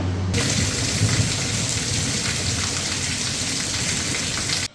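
Heavy rain pours down in a dense, steady hiss of drops hitting surfaces, close and loud with no pauses, then cuts off abruptly at the end, with no talking.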